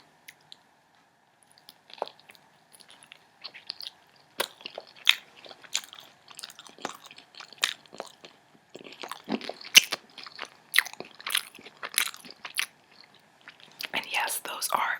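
Someone eats prosciutto pizza up close, taking crisp bites followed by steady, wet chewing and small crunches that grow busier over time, with soft breathy whispering in between.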